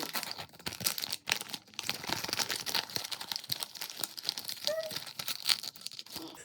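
Crinkling and rustling of a foil sachet for an Estée Lauder Advanced Night Repair Concentrated Recovery Powerfoil Mask, close and fairly quiet, with small irregular crackles running through the handling.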